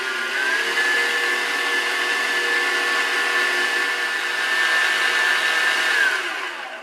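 An electric hand mixer whirs steadily while beating mascarpone cheese for tiramisu, a continuous high motor whine holding one pitch for about six seconds before winding down, close and loud with no talking.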